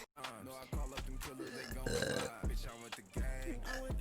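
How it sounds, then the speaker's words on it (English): A woman lets out a deep, drawn-out burp on command, loud and close, preceded and followed by brief moments of her talking. "I can burp on command, no matter what."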